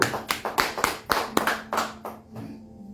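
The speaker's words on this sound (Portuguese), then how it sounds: "Aplauda o Senhor." A church congregation at a family worship service claps in a short burst of about a dozen fairly even claps that fades out after roughly two seconds, with a faint tone lingering underneath.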